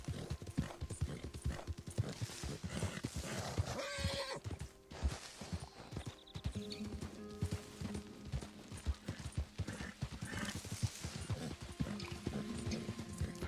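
A horse in a video game gallops with rapid, rhythmic clip-clop hoofbeats, punctuated by loud neighs and whinnies, close and prominent over a busy game soundscape.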